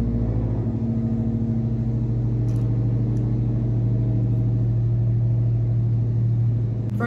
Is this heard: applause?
no